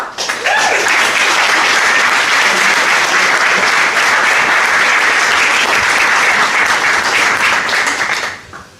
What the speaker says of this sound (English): Another massive round of applause for the three worthy winners